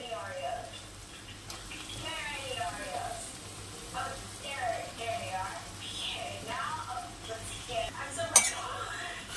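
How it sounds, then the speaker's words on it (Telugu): Brinjal pieces are stirred into a tomato and prawn curry in a village-style kitchen, with a soft sizzle and clinking scrapes of a utensil against the pot, close and moderate, while someone talks over it. "ఇందులో మనం వంకాయ ముక్కలు వేసుకుందాం."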